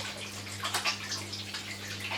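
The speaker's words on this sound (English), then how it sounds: "Wash my hands." Tap water runs steadily over hands at a kitchen sink during pork loin prep, a continuous close splashing wash with a low steady hum beneath.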